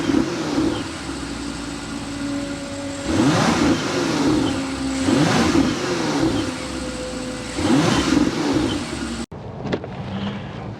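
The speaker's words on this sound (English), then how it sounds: "We need to go inside and start it up so you can hear that exhaust note" A 2025 BMW X5 M60i with its S68 V8 starts up and revs several times, each throttle blip swelling into a loud, deep exhaust roar over a steady idle, before the engine cuts off abruptly near the end.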